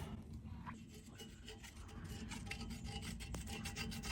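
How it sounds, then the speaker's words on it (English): A spatula scrapes food gunk off the sides of a camp pot during winter campground cooking, a close, faint, continuous rasping scrape that rubs around and around with small irregular strokes. "just going around with a spatula, just trying to get all the gunk off the sides"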